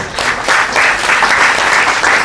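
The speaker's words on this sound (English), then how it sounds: "Can we have a big round of applause for him?" A conference audience applauds the chief guest with loud, dense, continuous clapping that fills the room, close and sustained without letup.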